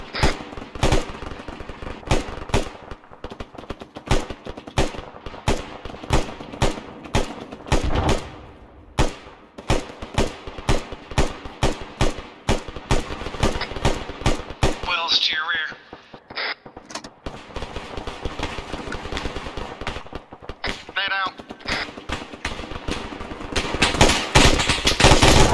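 Rapid rifle and machine-gun fire against zombies in Arma 3 during a Halloween zombie island event, many sharp close shots in bursts and single cracks, with voices talking over the firing.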